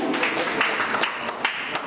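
Audience applause at a blood donation camp event, a steady crowd of many hands clapping with scattered sharper claps throughout.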